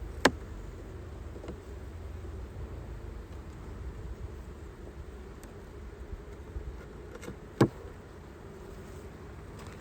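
A low, steady hum of buzzing honey bees fills the air, broken by a couple of sharp knocks.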